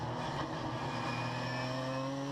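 A 1988 Nissan 300ZX Turbo race car on track, its engine holding a loud, steady droning note with a rising pitch as it pulls hard out of a corner, heard up close and continuous.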